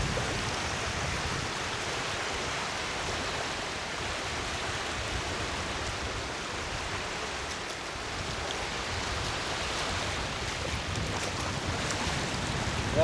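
Waves lap on Puzhal Lake near Chennai, a steady, soft broadband wash of water with no distinct breaks, continuous and fairly faint throughout.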